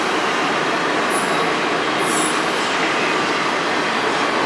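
A train rolls past in Sarnia, Ontario, its steady loud rumble of wheels and cars filling the scene, with brief high squeals from the wheels.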